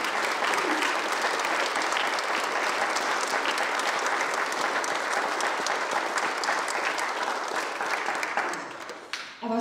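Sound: applause for the Czech boys' choir Boni Pueri

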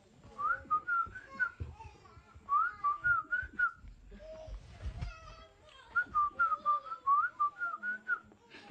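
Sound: Pirahã whistle speech, men conversing by whistling

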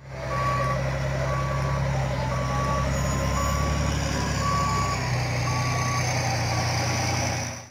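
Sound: sand truck with reversing beeps

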